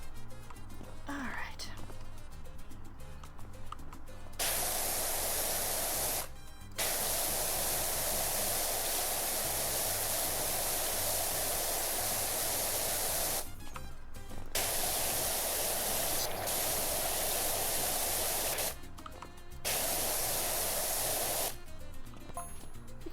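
Pressure washer nozzle spraying in PowerWash Simulator 2, a steady loud hiss of water that runs in long stretches, cutting out briefly several times before resuming.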